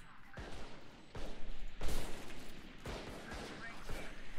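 Several sharp bursts of video game gunfire crack out in quick clusters, some overlapping, with a low rumble underneath and a voice faintly audible between shots.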